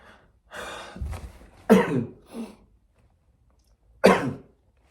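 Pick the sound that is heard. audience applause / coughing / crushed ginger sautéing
coughing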